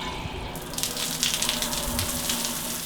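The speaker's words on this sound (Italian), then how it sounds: "Altra cosa fighissima è la doccia che dà sul nostro giardino privato." Water runs steadily from an outdoor shower in a private garden on Huahine, French Polynesia, a continuous close hiss of spray and splashing with no talk.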